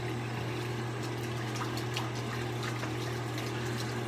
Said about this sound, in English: Wash out the brush.